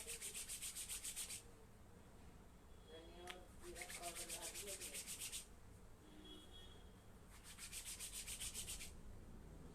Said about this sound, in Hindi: दोनों हाथों को रगड़कर आंखों की पलकों पर सटाइए 3 बार।